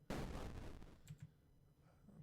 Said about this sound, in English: So this is an explosion of an asteroid.